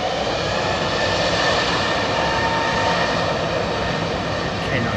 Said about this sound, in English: engine noise top notch today